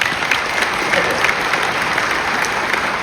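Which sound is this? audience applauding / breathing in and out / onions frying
audience applauding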